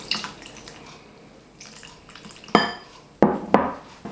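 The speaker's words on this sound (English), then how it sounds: "whisk it all together till we get a nice smooth batter" Buttermilk pancake batter made with whey gets whisked together in a bowl. Soft wet stirring runs throughout, broken by a few loud, sharp clanks of the whisk against the bowl near the end.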